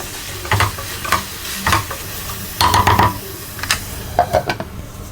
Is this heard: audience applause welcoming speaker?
no